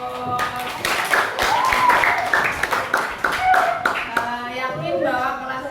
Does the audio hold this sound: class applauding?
yes